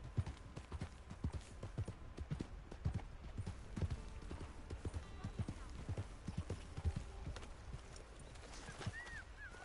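Horse hooves clip-clop steadily on the ground while riding in the video game Red Dead Online, a close, even rhythmic gait with a faint whinny-like call near the end.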